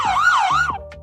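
Siren sound effect used in a video edit, a loud wailing tone that rises and falls twice in quick succession before cutting off abruptly, heard alone.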